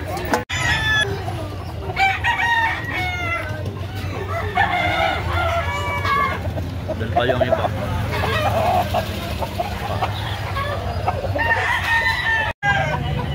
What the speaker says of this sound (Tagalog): Meron pang manok si Kuya dito